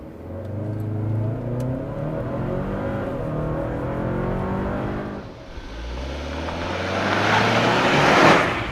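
A Hyundai Santa Cruz pickup with a 2.5-liter turbo four-cylinder accelerates hard from inside the cab without launch control, its engine note rising through the gears with a brief dip at a shift before climbing loudly again.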